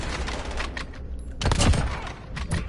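Rifle fire from a Kar98k and an AX-50 in a video game, with a cluster of heavy shots in the middle and another near the end over constant game noise.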